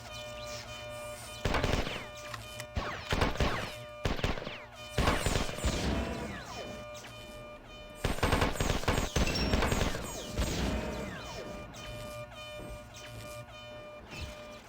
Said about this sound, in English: No, he's firing at me.